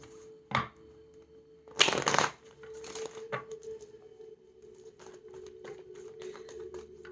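Cards of a Moonology tarot deck shuffled close by in short riffling bursts, one strong flurry near the middle, followed by lighter flicks and taps over a faint steady background hum.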